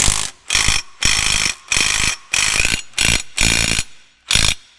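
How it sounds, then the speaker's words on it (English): Bursts of a 1/2-inch Milwaukee stubby impact-style ratchet with a 15/16 socket tightening bracket bolts on a dump truck hydraulic pump, loud and close, eight spaced runs of rapid clicking whir with short gaps between. "we're using a 15/16 socket on the 1/2-inch Milwaukee stubby, and we're tightening up this bracket"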